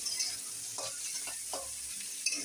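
Ghee goes into a hot frying pan, giving a steady close sizzle with a few soft stirring swishes over a short stretch, without any voices.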